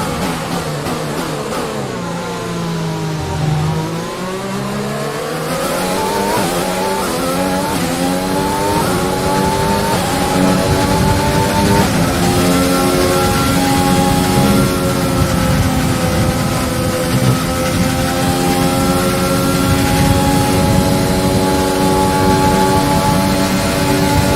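A Formula 1 race car engine in the F1 2020 game at the Belgian Grand Prix, a slightly worn power unit, revs and shifts through gears with rising whining pitch sweeps, loud and close without talk.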